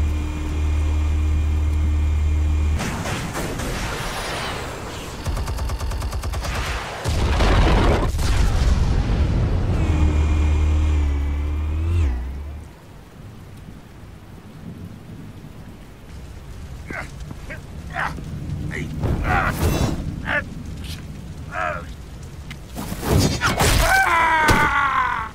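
Explosives detonate in Batman: The Telltale Series, heavy booms and deep rumbling rolling through the first half, followed by a quieter stretch with scattered crackles before a final loud blast near the end.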